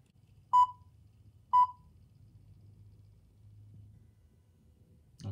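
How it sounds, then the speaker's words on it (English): Two short, clear electronic beeps about a second apart over a faint low motor hum as a Mibao D600 pan-tilt home security camera calibrates, followed by a brief click at the end. "It goes fully left and fully right and then up and down and keeps on beeping for 2 seconds"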